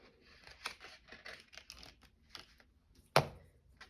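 Scissors cut paper for a junk journal in a series of quiet snips and rustles, with one louder sharp snip near the end.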